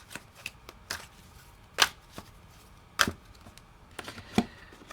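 Tarot cards being fan shuffled by hand, giving quiet, crisp riffling snaps and clacks at irregular intervals, with a few sharper bursts standing out against near silence.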